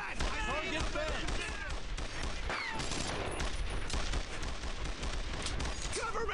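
Dense World War II battle gunfire in Brothers in Arms: Earned in Blood, overlapping rifle and machine-gun shots crackling continuously and loud, with shouting voices mixed in.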